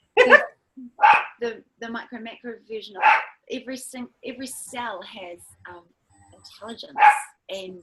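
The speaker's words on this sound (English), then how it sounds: "I'm sorry about the barking." A dog barks in short bursts indoors, the sharp yaps mixed in among a woman's continuous speech close to the microphone.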